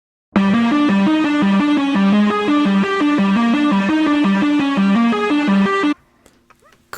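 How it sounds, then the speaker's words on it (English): A steady sine-wave tone driven through a digital effects chain with heavy DOOM-style distortion, playing a loud, rhythmic stepped pattern of harsh buzzing notes for about five seconds before cutting off abruptly to near silence. "he ran sine waves through it to get just the craziest sounds"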